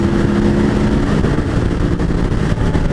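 A KTM 950 Adventure motorcycle roars at full throttle, a loud, continuous, gritty engine note with wind rush as it accelerates hard, no voices present.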